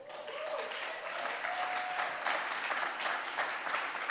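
Audience applause at a conference keynote address, a steady wash of clapping from a hall crowd lasting several seconds, with a faint voice partly heard underneath.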